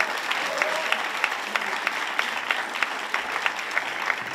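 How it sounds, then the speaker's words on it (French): Audience applause for a comedian at a stand-up comedy show, a dense steady clapping from a live crowd sustained throughout with scattered sharper claps standing out. "Du bruit pour Brian"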